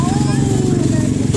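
ATV quad bike engines race at a motocross event, a loud, steady buzzing drone with high revving whines, close and continuous.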